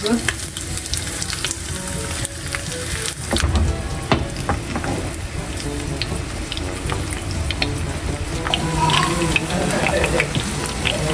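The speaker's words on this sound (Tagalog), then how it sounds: "Bali ako po ay magpiprito din ng bangus." Dried milkfish (daing na bangus) frying in a home kitchen, a steady crackling sizzle with occasional stirring clatter and sharper pops throughout, fairly close.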